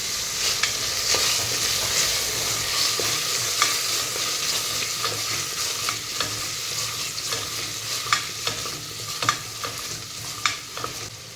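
Chopped carrot and potato are sautéed in a pan for chicken stew: a steady close sizzle runs throughout, punctuated by repeated clinks and scrapes of the stirring spoon at an uneven pace, with no speech.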